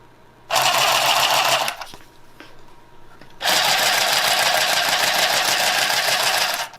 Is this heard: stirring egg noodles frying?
no